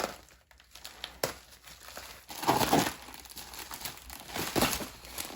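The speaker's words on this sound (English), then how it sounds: "let's go ahead and cut these tape pieces" Tape is cut and peeled from a cardboard box while unboxing fan blades, giving close crinkling and tearing noises in irregular bursts, louder in the second half.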